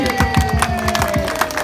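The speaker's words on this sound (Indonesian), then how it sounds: "Tepuk tangan untuk semuanya." An outdoor crowd at a car free day cycling community event claps in a quick, regular rhythm, each beat a punchy burst, over a steady tonal hum and a bright background din.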